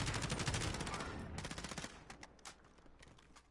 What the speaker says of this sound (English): He's shooting down in town.